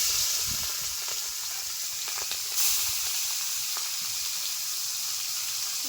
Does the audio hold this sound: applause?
no